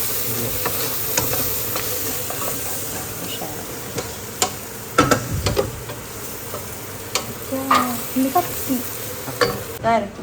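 Food fries in a pan with a continuous close sizzle, broken by scattered clicks and spattering pops that grow busier toward the end.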